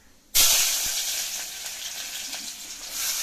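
Mustard seeds hit hot oil for a stingray fish curry with a sudden loud sizzle that holds steady and close, a dense hiss with faint crackles and no talking.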